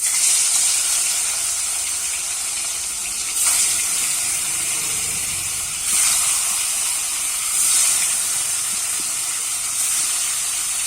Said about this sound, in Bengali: মাছগুলো আমি ভালো করে লাল লাল করে ভেজে নেব